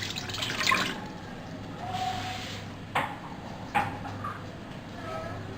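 Water poured from a glass into a pan while making chicken corn soup, a few short splashy pours and clinks, close and fairly quiet, with kitchen background hum.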